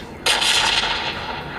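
A single loud gunshot-like blast from the mobile game PUBG Mobile, played on a Redmi 12 phone, cracks sharply and then rings out in a short decaying tail.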